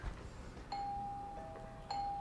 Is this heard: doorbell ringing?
yes